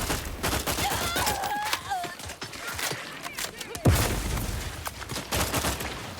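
Gunfire in the video game The Outer Worlds 2, a chaotic burst of repeated shots and impacts with a heavy boom near the middle, mixed with game voices and effects.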